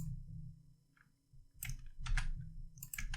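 Keys on a computer keyboard are tapped in short clustered bursts, close and fairly quiet, with a brief pause before a quicker run of clicks.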